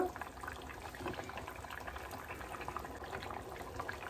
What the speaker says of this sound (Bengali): ঝোলের মধ্যে একে একে মাছগুলো দিয়ে একটু ফুটতে দেব